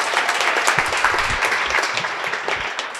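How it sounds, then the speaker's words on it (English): Audience applause at a business talk event, dense steady clapping from a crowd filling the room for a few seconds. "round of applause for Amanda team"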